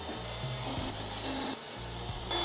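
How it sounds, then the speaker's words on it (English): A power drill bores 7mm holes for fitting a Zaero Designs EVO-1 body kit to a VW Golf Mk8 GTI, a steady close whine with brief pitch shifts as the bit bites and eases. "So let's get drilling."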